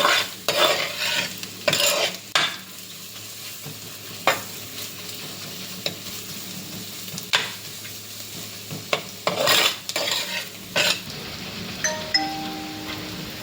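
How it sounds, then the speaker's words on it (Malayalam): Spices with turmeric powder fry in a pan for chicken curry, a steady sizzle running beneath repeated sharp scraping strokes of a spoon stirring against the metal, close and fairly loud, with no talking. "അപ്പോൾ നന്നായിട്ട് മഞ്ഞപ്പൊടി ഇട്ട് നന്നായിട്ടൊന്ന് വറുത്തെടുക്കാം"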